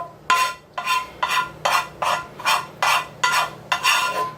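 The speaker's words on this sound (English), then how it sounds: "I want to scrape all that little goodness into my pot. Into my bowl." A utensil scrapes sweet and sour chicken ramen noodles out of a pan into a bowl, eight evenly spaced raspy strokes, close and fairly loud, with no talking.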